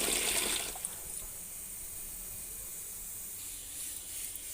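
Food being washed in water, a loud splashing hiss at the start that quickly settles into a faint, steady trickle and swish running on alone.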